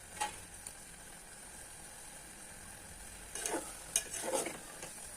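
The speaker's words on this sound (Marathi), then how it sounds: "पूर्ण असा हलवत राहायचं कंटिन्यू असा हलवत राहायचं" Raw mango gulamba is stirred steadily in a pan, giving a faint sizzling simmer. Soft scraping strokes repeat, with a few louder clusters of stirring near the end.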